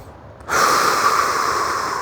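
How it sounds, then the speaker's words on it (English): A big, deep belly breath drawn in from the diaphragm during a calming exercise, a long steady rushing inhale that starts suddenly and continues close and loud without any talk. "Use that diaphragm, big, deep belly breath."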